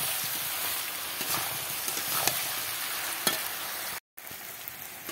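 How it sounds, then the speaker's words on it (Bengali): Young jackfruit curry with spices sautéing in a covered pan, a steady close sizzle with scattered stirring scrapes and clicks, a brief dropout near the end, no voices. "এবার এটা ভালো করে কষিয়ে নিতে হবে, ঢাকা দিয়ে দিয়ে কষিয়ে নেব।"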